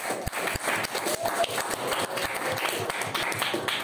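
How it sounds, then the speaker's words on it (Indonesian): A school class claps together at the end of a lesson, a dense run of hand claps filling the room at close range with some voices mixed in. "Tepuk tangan buat kita."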